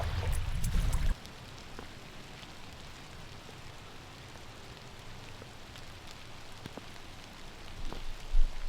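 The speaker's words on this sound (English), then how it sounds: "the rain has returned" Steady rain falls outdoors in a park, a soft continuous hiss with scattered drop ticks and a few brief knocks, after a short louder rumble at the start.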